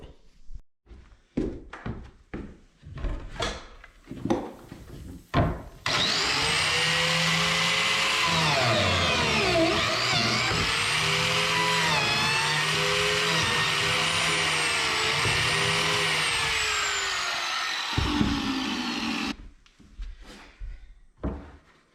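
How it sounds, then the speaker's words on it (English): A biscuit joiner cuts slots in the upper corners of living room window trim, whining loudly for about thirteen seconds between shorter knocks and bumps of handling at the start and end. "I'm going to biscuit joint those upper corners."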